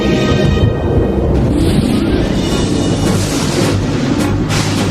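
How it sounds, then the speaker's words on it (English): Thunder from an animated storm lashing a tall pine: a loud, continuous, heavy rumble that fills the whole stretch, with no voices. "The thunderstorm attacked the tall pine with a vengeance."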